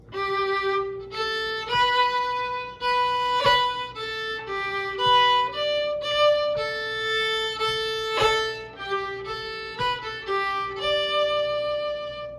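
A solo bowed fiddle plays a lively tune, notes slurred together with quick ornamental triplets, clear and close with no talking.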